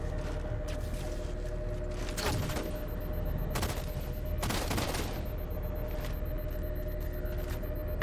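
Gunfire in Halo 4 breaks out in a few sharp bursts around a steady low hum, the shots fairly close and separated by short gaps.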